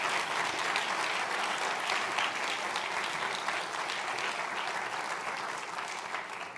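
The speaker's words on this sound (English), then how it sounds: "there's a loud round of applause" A large crowd at a university homecoming event applauds loudly, a thick continuous wash of clapping that stays strong and even throughout, tapering only slightly near the end.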